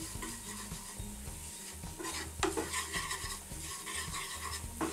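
Ingredients for a rice, cod and potato stew fry in a pan with a lively, continuous sizzle, while utensils scrape and stir against the metal close by.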